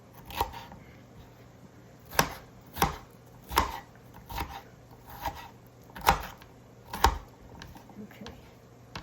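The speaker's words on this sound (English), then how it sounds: "Over here I've got myself a red pepper, which we're going to cut up into small pieces." A knife chops a red pepper into small pieces on a cutting board, about eight distinct sharp taps at an uneven, unhurried pace, close and fairly quiet.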